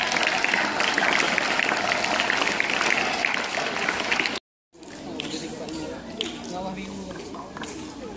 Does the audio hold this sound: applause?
yes